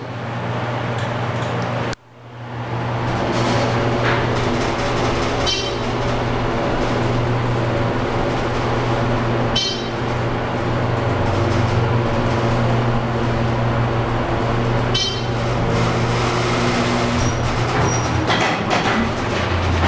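A steady low mechanical hum and whir of a running 2002 Dover hydraulic elevator, with a brief dip early on and occasional faint clicks and rattles.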